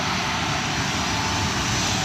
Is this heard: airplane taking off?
yes